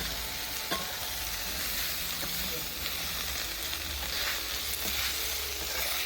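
Steady sizzling of udon noodles and cabbage with sauce frying on a hot grill, with faint scraping and clinks of a utensil stirring now and then.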